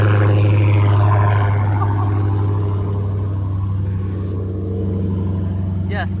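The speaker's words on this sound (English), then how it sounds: "So let's start it up, and then we're gonna go listen to the burble real quick." A 2020 Dodge Hellcat Widebody's engine idles with a deep, loud, steady rumbling burble, heard up close as people talk over it.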